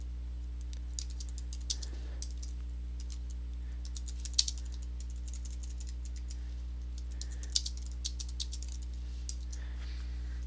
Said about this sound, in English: You could type in the hashtag